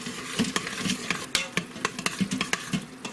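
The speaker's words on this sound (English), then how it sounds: "Let's go ahead, stir that in as well." Spoon stirring chili in an Instant Pot on saute, scraping and clacking against the inner pot in an irregular rhythm of short strokes, with a faint sizzle beneath.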